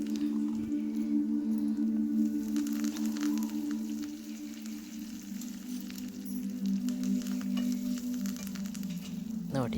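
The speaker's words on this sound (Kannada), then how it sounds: "ತುಪ್ಪ ಆಮೇಲೆ ಜೀರಿಗೆ ಇಂಗು ಕರಿಬೇವು ಸೊಪ್ಪು ಹಾಕಿ ಒಗ್ಗರಣೆ ಕೊಡಿ" Ghee tempering with cumin, asafoetida and curry leaves in a pan, a low sizzle and soft crackle running beneath a steady hum, with scattered spattering pops and a utensil clink near the end, nearby and fairly quiet.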